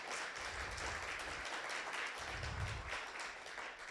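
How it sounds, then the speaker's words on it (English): Applause from the audience at a launch event honouring women, greeting Dr. Athambile Masola; steady clapping from a crowd at moderate distance, fairly quiet, without talk. "can we give her a round of applause?"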